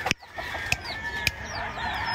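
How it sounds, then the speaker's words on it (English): Round Head Albany gamefowl chickens cluck and call close by on a farm, with a few sharp bursts standing out over a steady background hum. "These are some of the best chickens a man can ask for. Round head Albanys."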